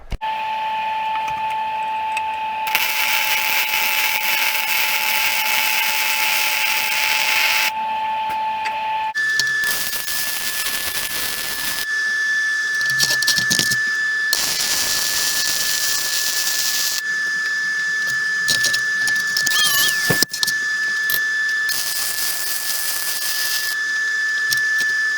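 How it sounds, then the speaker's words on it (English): A steel crane frame for a pickup hitch is being welded, with long stretches of steady, loud hissing and crackling arc sound that stop and start several times, with short breaks between passes. "let's go ahead and get this welded up"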